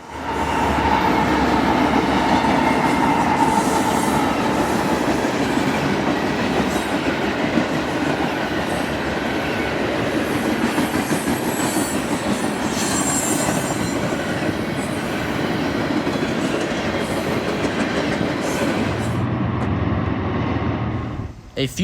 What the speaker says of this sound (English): a few more freight trains were due to pass through